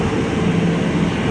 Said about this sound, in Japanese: ここは特に飛行機多いからね。